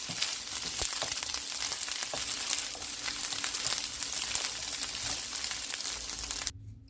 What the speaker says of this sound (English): You just keep stirring so it don't stick to the pan, even though this is a non-stick frying pan